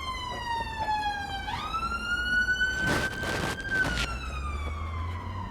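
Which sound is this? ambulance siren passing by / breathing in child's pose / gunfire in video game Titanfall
ambulance siren passing by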